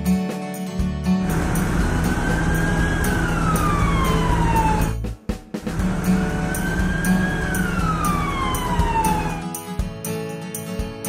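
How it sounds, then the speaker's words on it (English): An ambulance siren sounds twice over a thick, loud bed of engine and road noise. Each time a rising then slowly falling wail plays, broken by a brief dropout midway. No one speaks. "Ambulance."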